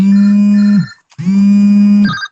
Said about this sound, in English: We have some other phones going off